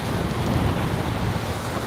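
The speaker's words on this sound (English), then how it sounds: "The wind is blowing the camera off the gimbal here." Strong wind from Tropical Storm Nicole at Saint Augustine, Florida, buffeting the camera, a loud, steady roaring rush of wind noise with a heavy low rumble, constant and close, with no talking.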